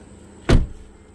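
The door of a 2011 Chevrolet Malibu, freshly refitted with its door panel, shuts with a single close solid thump and a brief fading rattle.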